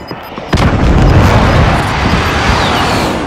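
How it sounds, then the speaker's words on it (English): A grenade goes off in the Call of Duty battle royale game: a sudden heavy boom with a long rumbling tail that fills the rest of the moment, loud and close, preceded by a faint thud. "Grenade."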